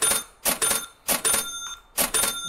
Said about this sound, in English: let me hit that cha-ching button for him.